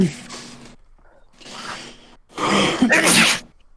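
A close, loud human sneeze, with a sharp intake and then an explosive burst near the end, after short breathy sounds from the same person.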